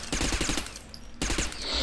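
Rapid gunfire in the shooter Interstellar Marines crackles in a quick burst of several close shots, a brief pause, then more firing.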